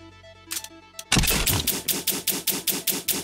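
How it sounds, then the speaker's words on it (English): Computer keyboard typing: a few light clicks, then a loud, close burst of fast, regular key strikes clattering on steadily, with no talk over them. "I love the sound of your keyboard when you type"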